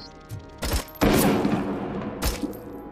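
A burst of rapid gunfire in the video game Robocop: Rogue City erupts, followed by scattered sharp shots and booms, fairly loud against a low background.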